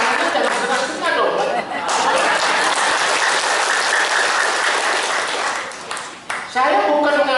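Sustained applause from an Indonesian seminar crowd, broad and even clapping with some chatter and laughter mixed in, fading near the end as a voice resumes speaking.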